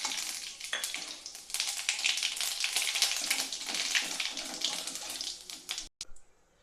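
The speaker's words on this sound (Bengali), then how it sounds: "তেল গরম হয়ে গিয়েছে, দিয়ে দিচ্ছি একটা শুকনো লঙ্কা, দিয়ে দিচ্ছি হাফ চা চামচ গোটা জিরে।" Dried red chili and whole cumin seeds sizzle in hot oil for a dal tadka, a loud, steady crackling hiss that runs unbroken, briefly cuts out near the end, then fades.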